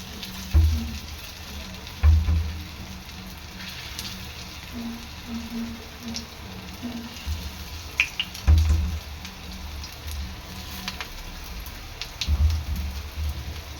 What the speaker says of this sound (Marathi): आपले पॅटीस आहेत ना हे शॅलो फ्राय करून घ्यायचे आहेत